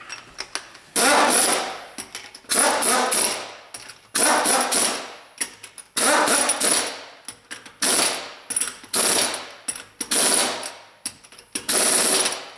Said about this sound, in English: You always want to torque your wheels to spec.